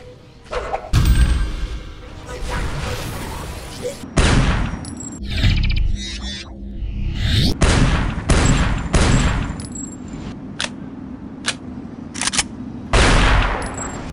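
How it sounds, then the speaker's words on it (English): A Winchester double barrel automatic shotgun fires in the video game Chaser: a series of loud, close blasts, some single and some in quick pairs, spaced irregularly with metallic clanks between shots. "Winchester double barrel automatic."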